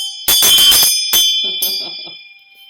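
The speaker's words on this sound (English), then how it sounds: "Here's the sound of the bell." A ritual bell rung together with a dorje gives several bright, shimmering metallic strikes, and the sustained ring fades slowly afterward.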